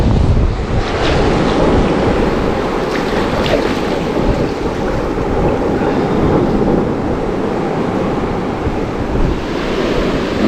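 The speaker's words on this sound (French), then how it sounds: "La mer, la mer." Ocean surf breaking on a beach while surfcasting, with strong wind buffeting the microphone: a loud, continuous roar of waves and gusts with no voices.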